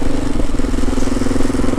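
A 2018 Kawasaki KLR650 single-cylinder motorcycle engine chugs steadily nearby in a brief, loud, even burst with a rhythmic thumping pulse.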